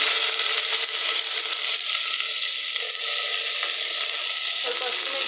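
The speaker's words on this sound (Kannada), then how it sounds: "ಕರ್ಬೇವಿನ ಸೊಪ್ಪು ಹಾಕ್ತಾಯಿದ್ದೀನಿ ಫ್ರೆಂಡ್ಸ್. ಹಸಿಮೆಣಸಿನ್ಕಾಯಿ ಹಾಕ್ತಾಯಿದ್ದೀನಿ." Curry leaves and green chillies crackle and sizzle in hot oil in a pan, a steady, loud frying hiss running the whole time with no talk over it.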